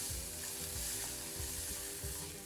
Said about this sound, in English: Add in diced carrot.